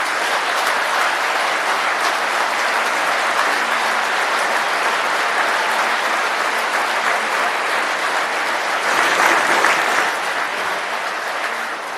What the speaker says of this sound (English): for that I would like you all to give him a round of applause if you would.